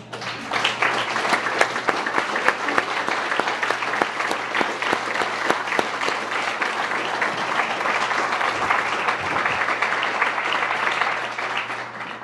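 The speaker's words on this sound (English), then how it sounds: "a round of applause as well" Sustained applause rings out at an honor wall ceremony as family members of law enforcement stand, a long, dense wash of many hands clapping with crowd murmur and a faint steady hum underneath.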